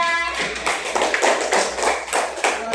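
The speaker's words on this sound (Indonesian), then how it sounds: "Beri tepuk tangan untuk kelompok 3." A classroom group applauds a presenting student group in a short burst of fairly close clapping with uneven rhythm and a few louder claps, with no talk over it.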